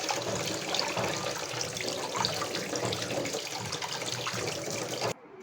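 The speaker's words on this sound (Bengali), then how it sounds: "তো চালটাগুলো আমি এখানে ধুয়ে নিলাম।" Elephant apple (chalta) fruit rinsed under a running tap, a continuous close splash of water over the fruit, alone, cutting off abruptly near the end.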